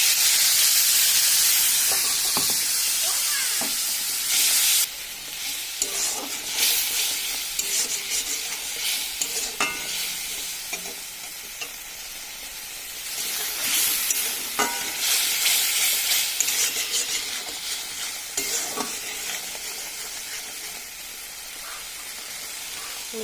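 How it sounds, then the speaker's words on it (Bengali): Spice paste hitting hot oil seasoned with cumin and a dried red chili while cooking cauliflower and potato, a loud steady sizzle and hiss with occasional stirring scrapes throughout. "ফুলকপি ভেজে তুলে নিয়ে তেল দিয়ে আমি দিয়ে দিয়েছি জিরে আর একটা শুকনো লঙ্কা ফোড়ন। এবার আমি দিয়ে দেবো পেস্ট করে রাখা মশলাটা।"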